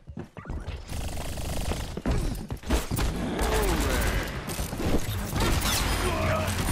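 Grenades explode in the Overwatch video game amid dense gunfire and clanking effects, a loud, continuous barrage of blasts and impacts that runs without a break.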